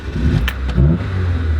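An older, faded Honda car engine cranks and catches in a quick start, settling into a loud, close idle with a brief rising rev.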